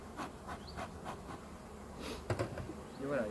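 Honeybees buzz around brood frames during a hive inspection, close and fairly faint, with intermittent wingbeat drones and small handling knocks over a quiet background.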